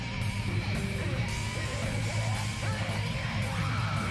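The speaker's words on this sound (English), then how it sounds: "Like the screaming stuff might be on a loop." Looping screams in Danganronpa Goodbye Despair, steady crowd-like yelling that repeats continuously at a moderate level over a constant background tone, with no distinct pauses.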